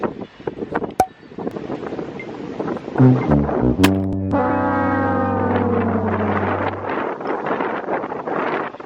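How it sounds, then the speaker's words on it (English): Gusty wind buffets the microphone with a low roar, interrupted by a long sustained horn-like tone that fades out midway. "It is so windy."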